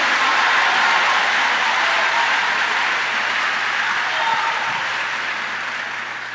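A church congregation breaks into loud, sustained applause all together, a dense, steady wash of clapping that fills the room and tapers slightly toward the end, with no voices over it.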